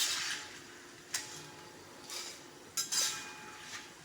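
Chips frying in hot oil rattle and clink as they are stirred with a metal spoon in a pan, giving a few faint, scattered bursts of clatter over a quiet hiss.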